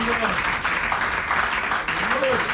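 A church congregation breaks into continuous applause during a sermon, a dense wash of clapping mixed with voices that carries on without a break.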